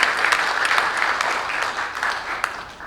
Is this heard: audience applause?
yes